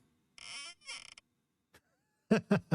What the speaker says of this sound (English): Today is creaky door fast.wave.